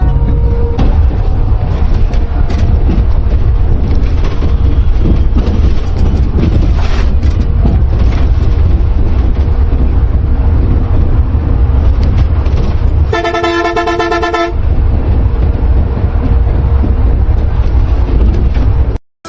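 A Miami Hyundai bus on the busy Dhaka–Chittagong highway gives a loud, steady roar with wind buffeting, and a long horn blast sounds partway through.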